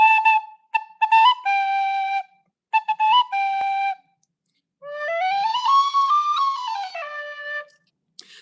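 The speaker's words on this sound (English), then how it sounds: "It's a new tin whistle," A new tin whistle plays alone, close and clear: a few short, choppy phrases of held notes with pauses, then a longer sweeping phrase that rises and falls before settling.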